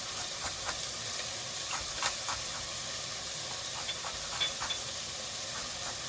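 Carrots and Brussels sprouts roast in a hot pan with a steady close sizzle and hiss, a few brief crackles and stirring scrapes rising over it.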